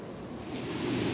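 A Rain Bird adjustable spray nozzle sprays water in a steady, hissing rush that swells slightly over a second or so, heard on its own without voices.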